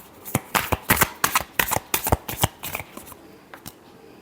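Tarot cards shuffled in a quick run of about a dozen crisp riffling bursts, close and clear, tapering off toward the end with no voices.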